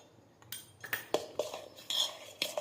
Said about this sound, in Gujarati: તેને આપણે બરાબર મિક્સ કરી લઈશું